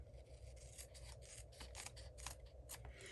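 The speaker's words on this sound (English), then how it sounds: "then we're gonna take our scissors, make sure I'm cutting the right one" Scissors cut through designer paper for a card-making project, giving a series of soft, close, rasping snips in a steady rhythm. The sound is quiet and continuous, with no one speaking.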